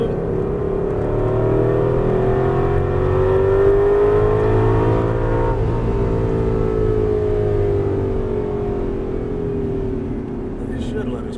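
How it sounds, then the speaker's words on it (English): An Aston Martin V8 Vantage on a racetrack lap produces a loud, droning engine note that climbs and falls through downshifts and throttle application, with a person talking over it. "Downshift, yeah, there you go, throttle through"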